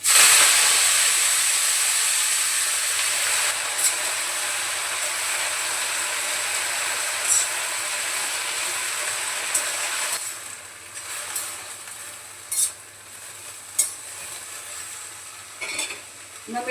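Vegetables drop into a hot oil tempering of cumin and village garlic and sizzle loudly, a steady bright hiss that eases after about ten seconds, broken by a few sharp spatters and stirring clinks.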